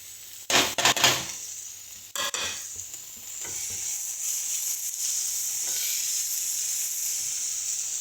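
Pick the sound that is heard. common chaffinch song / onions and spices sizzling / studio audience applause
onions and spices sizzling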